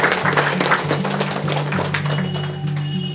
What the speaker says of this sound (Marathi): आता जोरदार टाळ्या होत्या दादांसाठी एक वेळा.